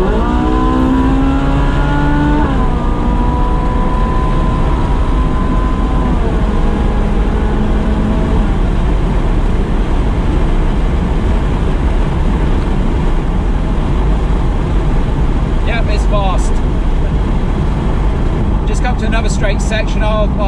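A Ferrari 458 accelerates hard on a straight road, its engine note climbing through gears in rising sweeps before settling into a loud, steady roar mixed with road and wind noise, with brief voice-like sounds near the end.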